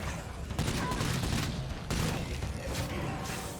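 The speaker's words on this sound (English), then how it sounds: "This thing just blasts through ammo so fast" Rapid automatic gunfire in the zombie survival game State of Decay 2, a dense, continuous rattle of shots with a sharp burst near the middle, mixed with game effects and faint background voice.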